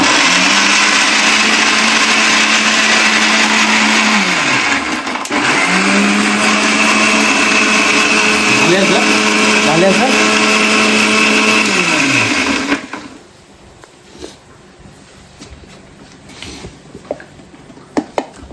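A mixer grinder blends tomatoes into a paste for gravy, a loud motor whine that runs in bursts with pitch drops between them, then cuts off into quiet kitchen clatter.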